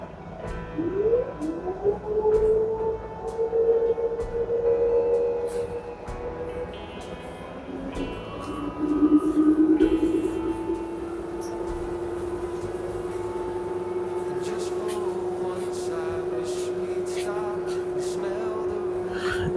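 The drum of an LG washer dryer rotates and speeds up, starting with rising motor whines, then settling into a steady humming tone under scattered clicks and rattles.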